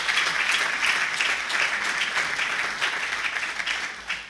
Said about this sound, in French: Je voudrais qu'on l'applaudisse aussi.